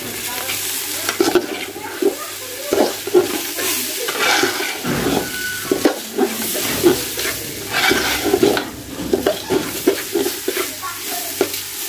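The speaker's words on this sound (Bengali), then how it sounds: "এখন আমি দেব 1 টেবিল চামচ আদা পেস্ট আর দেব 1 টেবিল চামচ রসুন পেস্ট।" Rice fries in a pan for biryani as ginger and garlic paste go in, with a continuous close sizzle broken by frequent stirring scrapes and clatters.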